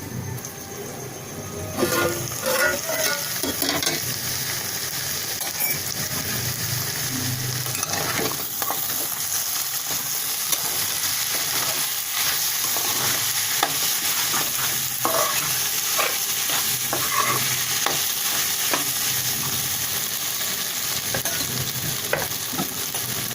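A potato fry with chilli paste sizzles gently in a pan over a low flame, a steady close crackle broken by frequent scraping stirs of a spoon against the pan, with no voices.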